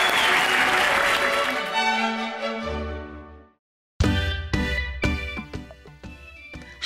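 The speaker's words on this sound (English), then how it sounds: "The audience was in awe and burst out into applause at the end of the performance." Orchestral music with a prominent violin fades out, then after a brief silence an audience bursts into applause, with strong scattered claps that start abruptly and continue.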